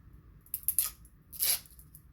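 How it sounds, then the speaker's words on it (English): Adhesive 3M tape backing being peeled off a childproof door lever lock, two short crackling tearing bursts close up, the second longer and louder, in an otherwise quiet room. "All they have is just a little 3M tape here on the back, and we're just going to go ahead and peel that off."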